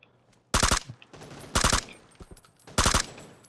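Three loud bursts of automatic gunfire in PUBG: Battlegrounds, each a short rapid volley of shots spaced about a second apart, with quiet game ambience between.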